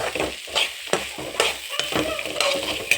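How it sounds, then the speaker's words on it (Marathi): Roasted kidney beans being stirred and tossed in a hot pan, with repeated scraping strokes of a spoon every half second or so over a continuous sizzle, close and fairly loud. "भुजलेला राजमा, तो असं हलवून घेऊ"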